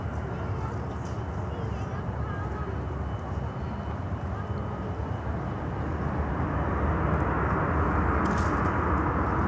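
An American Airlines airliner near an airport, a steady distant jet rumble and rushing noise that builds slightly toward the end, with occasional talk over it.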